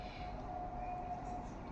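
A kitchen mixer grinder whirs steadily with a dense, even roar and a faint whining tone, grinding ingredients for a home-cooked paneer curry.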